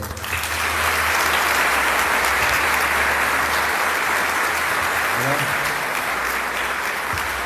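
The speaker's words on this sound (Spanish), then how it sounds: "lo recibimos con un fuerte aplauso" Audience at a talk in Corrientes giving a journalist a warm welcoming round of applause, loud sustained clapping from a sizable crowd that holds steady throughout, with a faint voice and low rumble briefly surfacing near the end.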